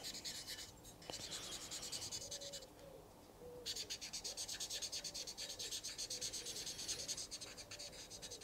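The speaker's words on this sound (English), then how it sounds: "we scratch the surface with that bit of bolt" A piece of bolt scratches across a metal oil pump surface, giving a steady run of close, rhythmic rasping strokes with a brief pause partway through.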